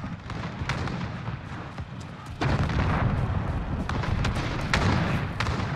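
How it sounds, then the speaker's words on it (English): Cruise missile strike explosions in Modern Warfare's Ground War mode on Krovnik Farmland. Heavy booms and crackling blasts rumble through a dense battlefield, with a louder surge of impacts about halfway through. No one speaks. "Allied cruise missile away."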